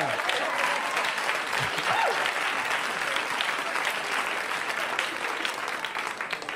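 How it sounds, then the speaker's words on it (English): A stand-up comedy audience claps in a dense, sustained round of applause, steady and fairly loud, with faint crowd murmurs and a voice briefly heard beneath it. "No need to clap."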